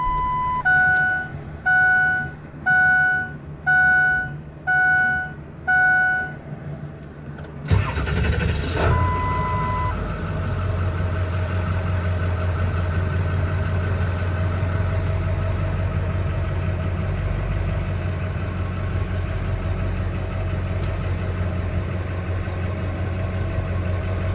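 A series of rhythmic electronic chimes, then a 2003 Ford F250 XLT pickup engine cranks and catches and settles into a steady, low idle rumble; no talking.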